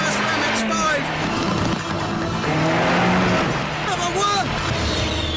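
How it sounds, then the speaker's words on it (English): A Mazda MX-5 sports car races hard around a greyhound track, its engine revving up and down with tires squealing through the bends, loud and close throughout, with voices talking over the din. "This is the perfect car for racing a greyhound round a track."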